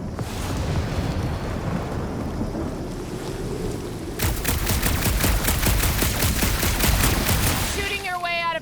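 Sustained rapid gunfire in the action game Marvel's Guardians of the Galaxy, a loud continuous barrage of shots over heavy rumbling noise, growing denser and more rhythmic in the second half.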